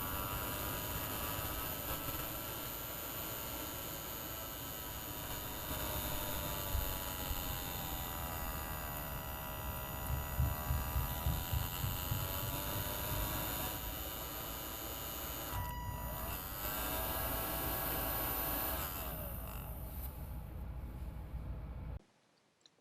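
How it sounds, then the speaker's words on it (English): Small DC motor driven through an SN754410 driver under Arduino Uno control, a steady whirring hum with tones sweeping up and down as its speed changes, continuous and close, then stopping abruptly at the end. "This project uses an SN754410 to control the speed and direction of a DC motor."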